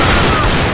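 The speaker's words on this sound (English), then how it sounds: "Oh, pretty good with the deagle! That was not a lucky shot" A Desert Eagle pistol firing in CS:GO, a single loud, close blast that fills the short moment and rings out into a dense noisy tail.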